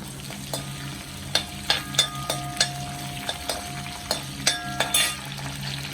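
Green chilies fry in a pan of oil for potato masala, a continuous close sizzle broken by a rapid series of sharp metal spoon clicks and scrapes as they are stirred.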